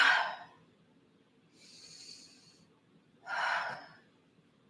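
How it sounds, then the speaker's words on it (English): Three slow, deep breaths during a guided breathing exercise, each a soft airy rush of inhaling or exhaling, close to the listener, spaced apart with quiet gaps and faint low background hum. "let's do 3 like inhales and exhales"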